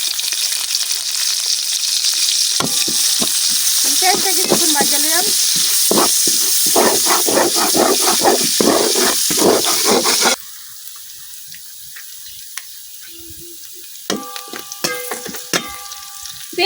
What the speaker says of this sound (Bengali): এখন আমি এই তেলের মধ্যে দিয়ে দিচ্ছি কাটিয়ে রাখা পেঁয়াজ